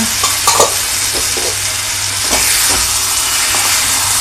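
Indian beans curry frying in a pan makes a loud, steady sizzling hiss up close, broken by a few scraping stirs of a spoon.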